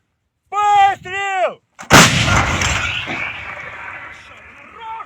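A single loud blast from a D-20 howitzer booms out after a few short harmonic tones, its roar rumbling and slowly decaying for several seconds.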